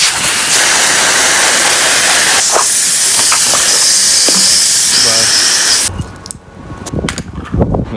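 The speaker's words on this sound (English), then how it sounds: "I'm gonna rinse them down because they are really," Water spray rinses dirty Mitsubishi Evo X undertray panels, giving a loud, steady hiss that cuts off partway through, after which drips and knocks follow.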